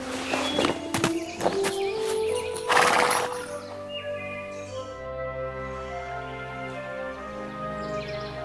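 A horse whinnies loudly amid a few hoof clops in an animated fairy-tale forest scene, then a sustained musical backdrop carries on.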